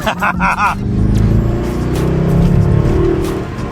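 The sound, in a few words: V8 car accelerating hard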